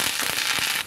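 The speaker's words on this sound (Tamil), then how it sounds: "நல்லா பொரிஞ்ச உடனே நம்ம ஆஃப் பண்ணிடலாம் கருவேப்பிலை பொரிஞ்சு" Curry leaves crackling and popping in hot oil while tempering for a spinach dish, a dense steady sizzle broken by several sharp pops and snaps, close and loud with no talking.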